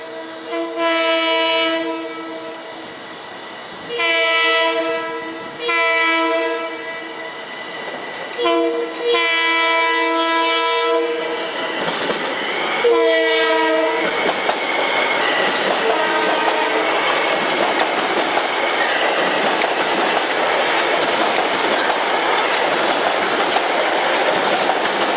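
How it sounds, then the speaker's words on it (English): A Long Island Rail Road Kawasaki M9 train on its inaugural westbound run in Long Island City sounds a loud, multi-toned horn in several long and short blasts. The horn gives way to sustained rumbling and clatter as the cars pass close by. "It's the inaugural westbound run of the Kawasaki M9"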